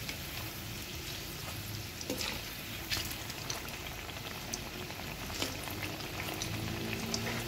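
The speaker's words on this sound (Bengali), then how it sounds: "দুপাশে এনে এরকম করে লাল লাল করে ভেজে নেব।" Fritters made from the inner pulp of a pumpkin fry in hot mustard oil, giving a continuous soft sizzle and bubbling with scattered small pops, steady and close without talk.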